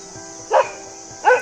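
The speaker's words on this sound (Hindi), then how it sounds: "हमें देखकर पुहालों के हृष्ट पुष्ट कुत्ते भौंकने लगे थे।" Sturdy herding dogs of mountain shepherds near Bhrigu Lake give two short, loud barks about a second apart over a steady outdoor hiss.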